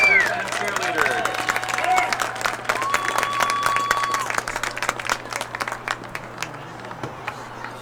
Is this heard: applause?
yes